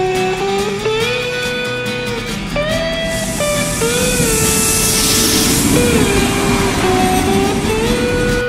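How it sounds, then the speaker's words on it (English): A passenger train travelling through Ireland toward Tullamore gives a steady, continuous rumble inside the carriage, with sustained whining tones that shift in pitch, a brief hissing swell midway, and no talking. "I'm traveling with the train for the very first time."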